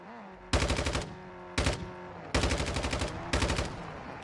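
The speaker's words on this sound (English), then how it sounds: "I shot at his windshield, but I don't think I actually hit him." Automatic gunfire in Call of Duty Warzone 2.0 comes in four loud, close bursts of rapid shots separated by short pauses, the longer bursts rattling for nearly a second each.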